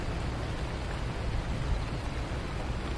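Steady rain falls outside a cozy cottage in chilly, wet weather, forming an even, dense wash of patter with no gaps and no voices.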